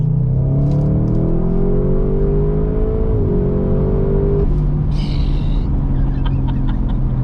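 A 720bhp 2020 Audi RS6 accelerates hard from close by, its exhaust roaring as engine pitch climbs steadily, then dips briefly at a gear change before rising again and easing back to a deep rumble with faint chirps over it.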